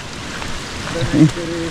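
Steady rain falls in a Konkan forest, a soft, even patter of drops with a voice briefly rising near the end.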